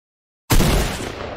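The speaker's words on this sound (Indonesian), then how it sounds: "Kau dengar tembak." A single loud blast of gunfire in Fortnite erupts abruptly after brief silence, close and booming, then decays over about a second.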